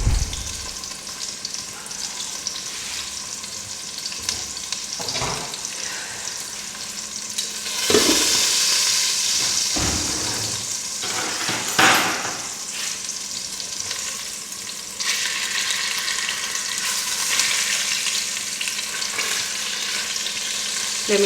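Meat sizzles loudly in a frying pan with a constant crackling hiss, broken by occasional stirring scrapes and clanks.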